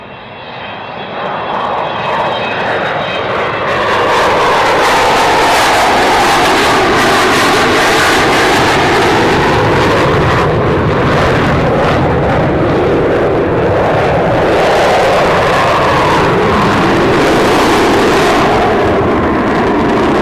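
Loud, sustained aircraft engine roar from a large airliner on approach with its wheels down, swelling in as it nears and holding steady and close for about twenty seconds, with no voices.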